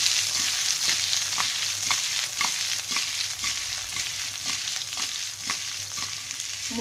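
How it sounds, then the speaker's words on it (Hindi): Steamed bottle gourd (lauki) muthia fry in a pan with a steady, hissing sizzle, punctuated by soft scrapes and taps of stirring, close and without voices. "मुठिया हमारा फ्राई हो चुका है, गैस को बंद कर देंगे"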